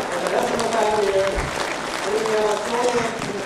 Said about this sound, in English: big round of applause for the rest of the faculty here